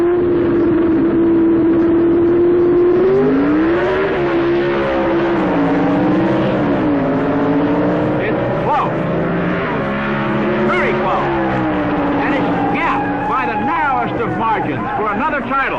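Drag racing cars launch at the 1975 NHRA US Nationals in Indianapolis, their engines holding a loud, sustained roar that rises and falls in pitch as they accelerate away. A commentator talks over the noise.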